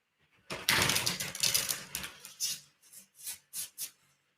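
Tarot cards are shuffled by hand in a quiet room, starting with a dense riffling burst, then breaking into a run of short separate flicks and slaps that fade away.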